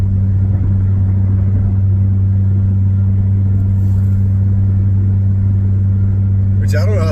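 2024 Nissan Frontier with a straight pipe exhaust cruising at highway speed, a steady low exhaust drone held throughout while a person talks over it.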